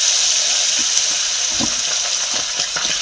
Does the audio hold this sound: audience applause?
no